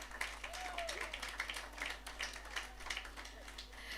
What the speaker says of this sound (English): you can clap him, yes.